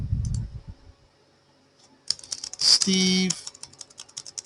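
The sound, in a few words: typing a sentence on a computer keyboard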